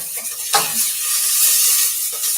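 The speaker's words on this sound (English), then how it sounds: "I love the sizzle in the kitchen." Food sizzles steadily in a home kitchen, a continuous bright hiss with a few brief louder crackles and stirring scrapes, close and alone without voices.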